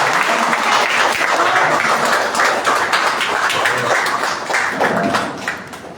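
Sustained congregational applause fills a church worship service after a call to praise the Lord, dense and steady clapping from a crowd throughout, easing slightly near the end.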